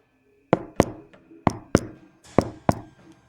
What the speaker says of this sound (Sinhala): කවුරු හරි තට්ටු කරනවා වගේ සද්දයක් ඇහුණා.